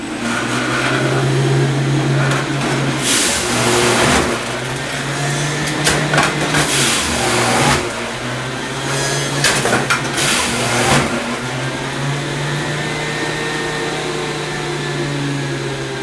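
A Breville juicer grinds oranges with a loud, steady motor whine, swelling and dipping as fruit is pushed through, with several sharp bursts of spraying and spitting noise.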